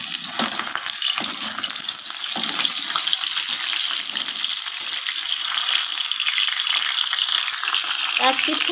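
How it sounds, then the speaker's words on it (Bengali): Large fish pieces frying in hot oil, a loud, dense, continuous sizzle and crackle filling the whole stretch, close up with occasional soft clinks and no talking. "অপর পিঠটাও ভেজে নিচ্ছি"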